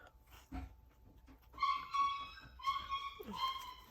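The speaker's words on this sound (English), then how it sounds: "The puppy's freaking out." A puppy whimpers and yips in a run of short, high-pitched cries, fairly close and moderately loud, with a few soft knocks at the start.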